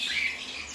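A single shrill, squawking songbird call at a bird market stall, close and loud, sustained briefly with a harsh high tone.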